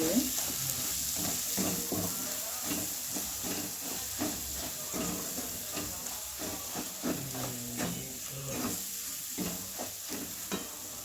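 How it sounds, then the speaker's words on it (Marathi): Masala with homemade red chili powder roasts in a pan, giving a continuous sizzling hiss broken by rhythmic scraping stir strokes, close and fairly loud. "बघा मसाला चांगला भाजला आहे"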